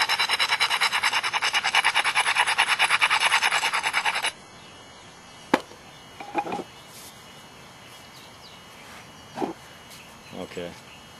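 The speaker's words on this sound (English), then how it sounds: "I really need to grind that and push pretty hard in order to get past it." Stone being ground with a bigger Ishi stick before pressure flaking, heard first as a fast, close, rhythmic rasping scrape for about four seconds, then a few sharp isolated clicks and short scratches in near quiet.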